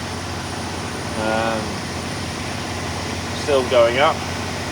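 Scania truck engine running steadily at about 1700 RPM during a coolant temperature sensor and EGR circuit test, a constant low mechanical hum with someone talking briefly over it.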